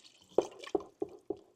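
Liquid from a can goes into thick blended cushaw squash soup in four distinct wet plops about a third of a second apart, close and fairly clear with no talk.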